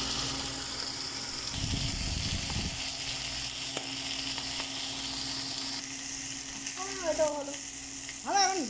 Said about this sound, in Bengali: এই যে বন্ধুরা এখন আলু আর মূলো ভাজছি।